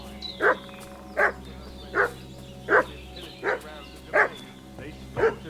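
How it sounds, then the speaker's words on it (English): A dog barks in Kingdom Come Deliverance II, seven evenly spaced single barks at moderate distance over a steady low ambient hum. "What's that dog making such a fuss about?"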